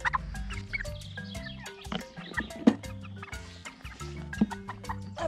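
Five-week-old broiler chicken clucking and squawking in short irregular bursts while being handled for weighing, close and fairly loud, no talking.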